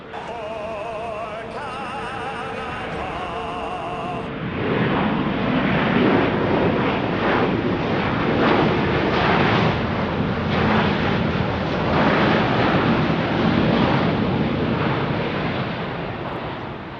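A WestJet airliner from Calgary takes off at Phoenix Sky Harbor Airport, its engines swelling into a loud, steady, broad roar that holds for over ten seconds before easing slightly.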